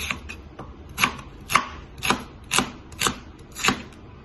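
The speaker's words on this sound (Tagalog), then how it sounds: "Slice lang natin itong sibuyas." A knife slices through an onion on a board in seven crisp, evenly spaced strokes about half a second apart, each close and distinct, with a few lighter taps at the start and no talking.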